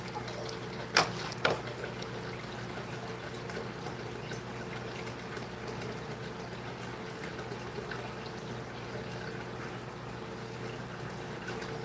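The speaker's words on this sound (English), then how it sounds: "filling up the tank after draining it" Steady, even wash of running water topping up an aquarium tank after draining, a continuous gurgling flow with two brief sharp clicks near the start, otherwise unbroken and fairly quiet.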